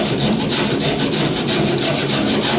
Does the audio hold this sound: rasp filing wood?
yes